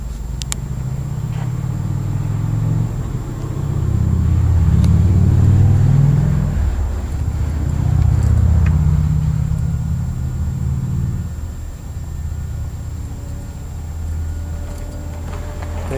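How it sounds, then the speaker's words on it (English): A Sanyo ductless split heat pump runs with a heavy low rumble that swells and eases in slow waves, close and fairly loud, alone without voices. "So yeah, this is a Sanyo ductless heat pump."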